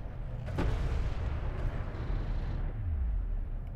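A defensive turret in the strategy game Deserts of Kharak coming under fire, a dense continuous rumble of gunfire and explosions with a sharper crack early on and a descending mechanical whine near the end.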